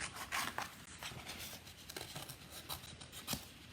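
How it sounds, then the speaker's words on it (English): Scissors snipping a small piece from an adhesive sheet during a papercraft project, a run of soft, close cutting and rustling strokes with no talk. "I'm just going to cut a little piece."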